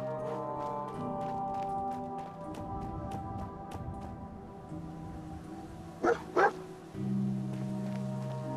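Dogmeat the dog in Fallout 4 giving two quick close barks over a quiet background of game music and ambience.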